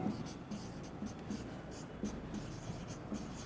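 A teacher writes on a classroom board during a lesson, producing soft, intermittent scratching and tapping strokes that sit close and faint with a quiet room in the background.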